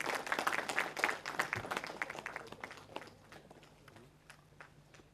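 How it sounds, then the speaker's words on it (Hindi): An audience at an Urdu press club ceremony claps, with brisk clapping loudest at first and then thinning and fading over a few seconds, heard at moderate distance. "ज़ोरदार तालियां बजाइए मोहतरम वाजिद अली साहब के लिए"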